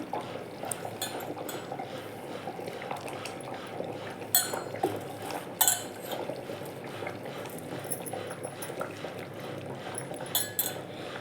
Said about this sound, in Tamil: இப்போ இந்த சமயத்தில் நம்ம கருவாடை சேர்த்துக்கலாம்